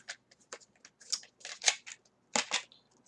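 Cardboard and shrink-wrap packaging on a Munchkin Shakespeare Kickstarter bonus game box is ripped and torn open in short, sharp, crackling bursts at close range, with brief pauses between pulls.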